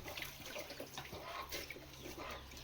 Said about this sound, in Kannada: ನಲ್ಲಿ ಬರ್ತೈತ್ ನೀರು.